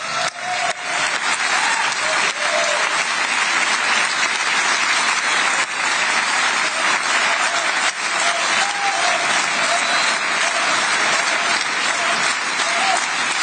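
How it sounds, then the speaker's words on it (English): Members of the Knesset, Israel's parliament, clap and applaud for President Donald Trump during his speech, a loud, sustained round of applause from a large chamber crowd that continues unbroken throughout. "they all come together to clap and applaud for President Donald Trump"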